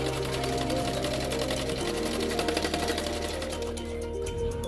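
A sewing machine runs steadily while a katori blouse is stitched, a continuous close whirring hum with a slight slowdown midway and no talk over it.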